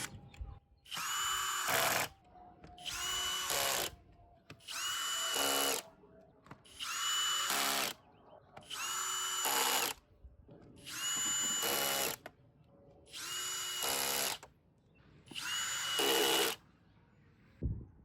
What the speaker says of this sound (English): I'm going to use my drill to tighten these screws down